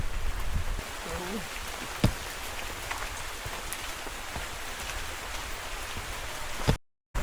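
Heavy rain pours down steadily on a village in a dense, continuous hiss with occasional louder drips, and a voice briefly speaks over it near the start.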